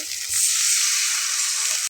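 Water hits a hot pan of spice paste frying in oil, bursting into a loud, close hissing sizzle that holds steady for over a second before cutting off abruptly, with no voices.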